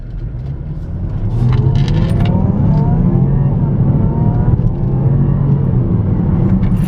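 A 2015 Range Rover HSE engine revs up hard under acceleration, a loud, steady low roar that builds after the first second and holds strong, with no one talking.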